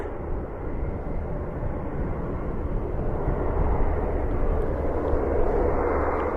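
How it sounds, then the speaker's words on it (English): A KC-135 military tanker aircraft sits ready for takeoff, its jet engines producing a steady, loud, broadband roar that swells slightly toward the end, heard from a distance with no talking. "There's a KC-135 and it is just about ready to go."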